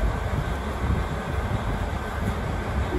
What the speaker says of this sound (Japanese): 5番線に列車が到着いたします。